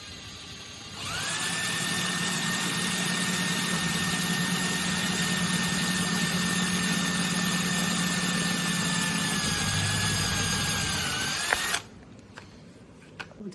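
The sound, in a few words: power drill drilling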